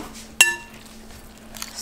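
A single sharp metallic clink of a fork stirring in a bowl rings out once, ringing briefly before fading, then near-quiet with faint scraping at the end.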